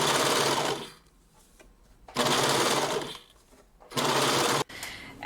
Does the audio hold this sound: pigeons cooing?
no